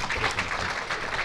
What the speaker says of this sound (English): And maybe also a big hand of applause for Gerard Nijs